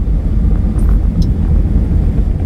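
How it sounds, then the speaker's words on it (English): A car approaches on a snowy road, a loud low rumble that builds steadily with wind buffeting the microphone. "there's a car coming."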